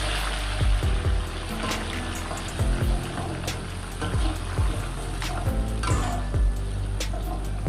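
Food sautés steadily in reused chicken-frying oil with chili paste, a dense crackling hiss with occasional scrapes and knocks of a utensil stirring the pan.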